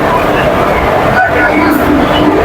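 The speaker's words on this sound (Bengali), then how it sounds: "তো বন্ধুরা আমাদের ট্রেন চলে এসেছে ফাইনালি," A passenger train, a Satkhira–Digha special, rolls up to a station platform, its broad rumble and clatter loud and steady beneath a voice talking over it.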